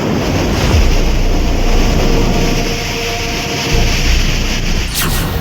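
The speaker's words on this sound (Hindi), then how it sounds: "लहरों का शोर," Constant loud rush of churning flood water waves in Uttar Pradesh, a heavy roaring surge with no voices, steady throughout.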